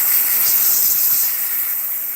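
A water hose sprays hard onto a freshly caught fish to blast off its slime, a loud, steady hissing rush that fills the whole moment without pause.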